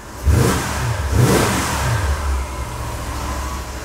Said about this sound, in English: It's a stock exhaust, but it does not sound awful.